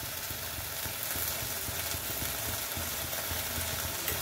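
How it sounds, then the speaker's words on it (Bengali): Masala frying in a pan over a high flame makes a dense, steady sizzling hiss with faint stirring scrapes, close and continuous. "মশলা যত কষাবেন মশলা তত ভালো হবে। তো সেই জন্য মশলাটা আমি জালটা বাড়িয়ে দিলাম।"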